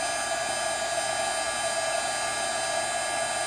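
Heat tool blowing steadily at close range while melting embossing powder during a card-stamping craft, a constant whooshing airflow with a faint electrical hum and no talking.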